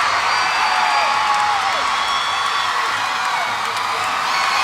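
Large crowd cheering and whooping at a college gymnastics meet between UGA and LSU, a loud sustained roar of voices with no pause throughout.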